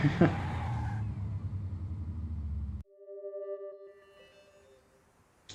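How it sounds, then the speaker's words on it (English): A fast car in the video game Killer7 roars loudly at close range for a few seconds and then cuts out abruptly, leaving quieter sustained tones that fade away. "One fast car."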